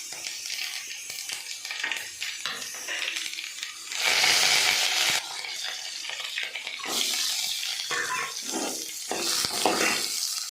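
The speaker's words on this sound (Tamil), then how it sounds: "இப்போ நாம் எண்ணெய் ஊற்றி கடுகு, வெங்காயம், வரமிளகாய் எல்லாம் போட்டு தாளிச்சிடலாம்." Mustard seeds, onion and dried chillies temper in hot oil, giving a steady sizzling hiss that flares into louder crackling bursts, close and without talk.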